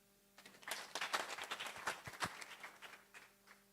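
An audience claps for a speaker at an ADRA event, a brief, fairly faint round of scattered hand clapping that swells and fades over a few seconds.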